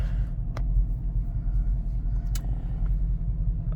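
Deep, steady exhaust rumble from a 2021 Dodge Durango RT 5.7 V8 fitted with a modified exhaust, idling or rolling nearby with a continuous low drone and a couple of faint clicks, no talking.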